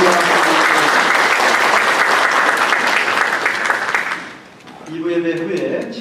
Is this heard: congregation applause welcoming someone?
yes